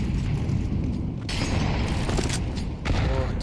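Grenades explode in a competitive esports shooter match, heavy low booms and bursts layered over continuous gunfire and game noise, loud and dense across the whole stretch.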